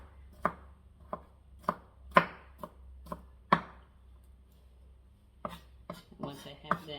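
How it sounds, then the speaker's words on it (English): A knife roughly chops garlic on a board in a series of sharp, separate thuds, about ten strikes at an uneven pace. Near the end the blows come faster and closer together. "I gather all of them together and I roughly just chop, get them into smaller chunks"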